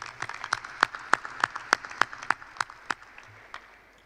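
Applause rises from an audience at a Louisiana State University Alexandria spring 2021 graduation ceremony. It is a light, moderately near patter with individual sharp claps standing out, thinning toward the end.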